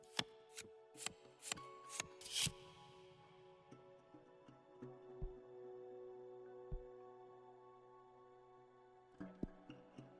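In the video game The Cosmic Wheel Sisterhood, a series of quick crisp snaps followed by a soft riffling burst as a deck is shuffled, then faint ticks and clicks over a low hum.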